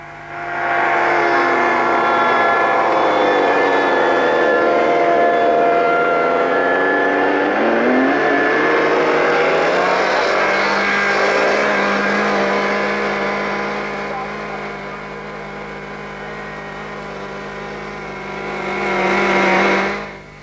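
Ducted fan model aircraft flying at an airfield, a loud, steady high-pitched whine that shifts in pitch as it passes, fades somewhat, then swells again near the end, with faint voices underneath.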